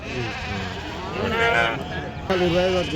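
Sheep bleat amid the bustle of the Pebbair sheep market, several calls overlapping close by, with people talking throughout.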